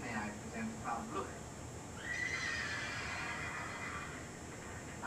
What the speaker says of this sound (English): every time they say her name, the horses neigh